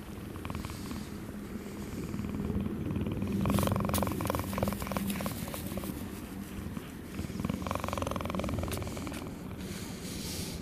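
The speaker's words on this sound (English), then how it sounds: "One more ear scratch and purr." Cheetah purring while having its ear scratched, a close, continuous low rumbling purr with rising bursts, with light rustling and brief soft handling sounds mixed in.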